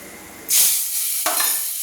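Pointed gourd (potol) pieces drop into hot oil seasoned with turmeric and salt in a kadai, setting off a loud, close burst of sizzling that eases to a steady hiss, then flares briefly again, with no voices.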